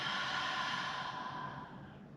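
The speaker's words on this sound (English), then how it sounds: "Take an exhale." A single long, breathy exhale during a barre workout with resistance band and light weights, close and steady, fading slightly toward the end with no talking.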